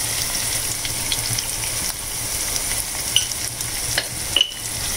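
Chopped onions sizzle steadily in a hot pan while a spoon stirs them, with occasional scraping clicks over a continuous frying hiss close by, no voices present.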